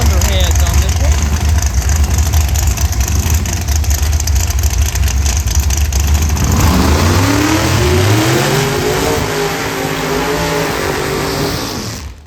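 Outlaw 4.70 class Cuda drag car with Indy cylinder heads at Beech Bend Raceway, a loud rumbling engine that winds up into sweeping revs and fades as it pulls away, with a commentator talking over it.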